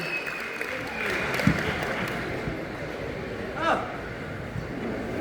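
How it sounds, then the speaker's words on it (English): Steady applause from a crowd at a chocolate expo Q&A with a Willy Wonka cast fills the whole stretch, with a faint whoop or two rising above the clapping. "let's get a loud round of applause for him as well"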